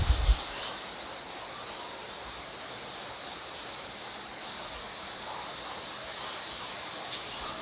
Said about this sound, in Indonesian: cuman sayang sedang hujan cuacanya